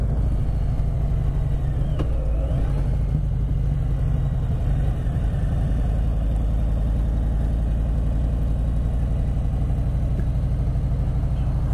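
A 2020 Harley-Davidson Sport Glide motorcycle rumbles steadily at cruising pace, its deep, throbbing engine note loud and constant throughout with no break.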